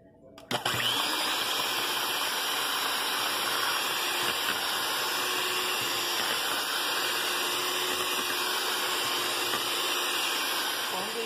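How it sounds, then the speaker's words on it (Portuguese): An electric stand mixer whirs steadily as it beats sugar, eggs and margarine for a cake batter, a continuous loud motor hum that starts abruptly and holds for several seconds, with no speech over it. "Aí vocês vão bater na batedeira, né?"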